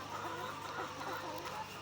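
Dense clucking from thousands of egg-laying hens fills a large poultry house on a farm, a steady, continuous chatter of overlapping calls with no pauses.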